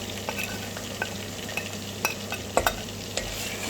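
Red pepper, garlic, caraway and spices get stirred in a pot for Tunisian chorba, a spoon scraping and clicking at an uneven rhythm over a continuous low sizzle, close and without talk.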